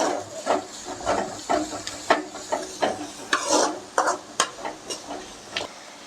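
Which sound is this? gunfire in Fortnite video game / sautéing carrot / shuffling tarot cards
sautéing carrot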